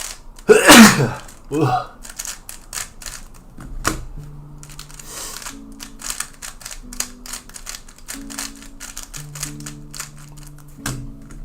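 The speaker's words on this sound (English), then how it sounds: "Allergy sneezing." A sharp allergy sneeze bursts out close to the microphone, followed by a smaller second one, then light scattered clicking and faint tonal beeps continue quietly for the rest of the moment.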